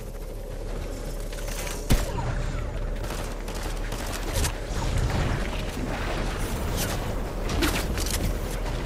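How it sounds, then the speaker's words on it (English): Gunfire in a Fortnite ranked match, with dense rapid shots and a sharp crack near two seconds, running continuously over a busy game background of effects and rumble. "There's a guy shooting."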